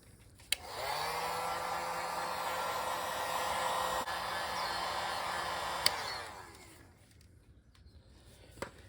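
A hair-dryer-style heat gun blows steadily and loudly for about five seconds while drying fresh paint on brake calipers of a Ford Maverick XLT Hybrid, switching on with a click and then winding down into near silence.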